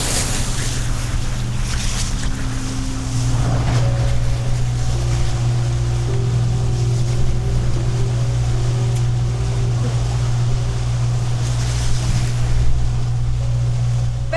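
Waves slap and wash against a boat hull on the Caledonian Canal in Scotland amid a steady low engine drone and wind, continuous and fairly loud with no talking.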